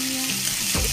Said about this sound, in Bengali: আমার আলু পেঁয়াজ একসাথে দুটোটা ভাজি হয়ে গেছে